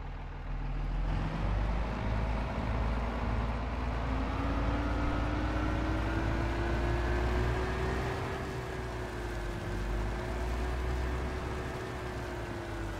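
A Ford FW60 four-wheel drive tractor's engine runs steadily at speed on a farm, a loud continuous droning roar with a slowly rising and falling pitch throughout and no voices.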